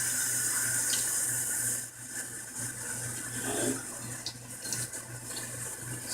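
Tap water runs into a kitchen bowl of seasoned meat and cornstarch, a steady close splashing stream with a brief lull partway through, then continuing trickles.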